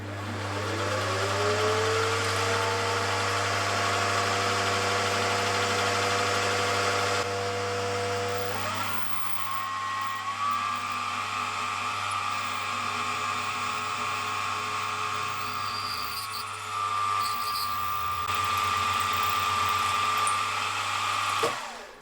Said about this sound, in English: now I just need to drill into the cage with this 1/4 inch drill bit